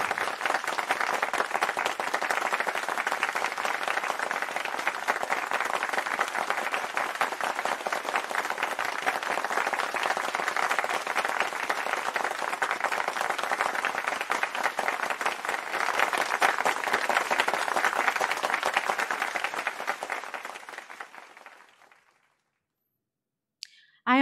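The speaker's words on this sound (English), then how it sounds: "the Augsburg community has come together to celebrate our graduating students with our applause" A large crowd gives sustained applause for graduating students at Augsburg University's 2021 commencement, dense clapping holding steady for about twenty seconds before fading out to silence.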